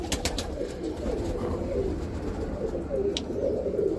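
Roller pigeons in a loft give soft low cooing calls, repeated and murmuring close by, with a few sharp taps or wing clicks over light background noise.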